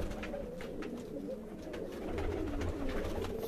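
Golden female and Sialkoti male pigeons cooing softly and steadily in a rooftop loft, low murmuring calls running continuously without a break.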